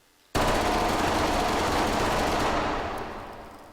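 A fully automatic gun in Hot Dogs, Horseshoes & Hand Grenades fires one loud, continuous burst of rapid shots for about three seconds, then the sound tapers off.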